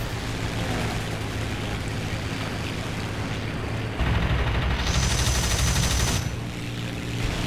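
Cannons fire from an I-16 Type 27 fighter in the War Thunder game, a dense rapid burst of shots over the droning engine that swells louder midway, then trails off.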